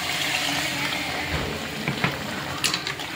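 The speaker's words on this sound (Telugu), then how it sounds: "వాటర్ పోసుకోవాలి" Water is poured into a pot of spiced oil and chili for country chicken curry, a steady close splashing pour with a few sharper splashes toward the end.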